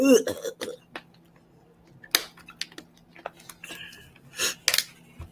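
A person with constantly draining sinuses gives several short, sharp coughs and throat clearings close to the microphone, scattered bursts separated by quiet gaps.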